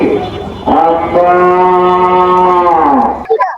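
A single loud, drawn-out moo from a cow close by at a livestock market, lasting a few seconds before cutting off, with a brief murmur of voices after.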